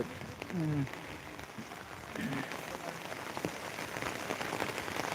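Rain falls steadily in Velichala village, a soft continuous patter with scattered sharper drops, while brief voices come and go in the background.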